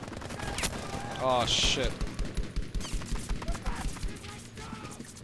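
Rapid gunfire in Battlefield V fires a quick run of sharp, evenly spaced shots close by, with a man's brief exclamation just before the volley.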